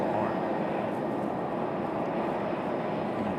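An American Airlines Embraer E175LR regional jet operated by Republic Airways roars steadily while landing at Raleigh-Durham International Airport, a loud, broadband engine rumble that holds constant without breaks.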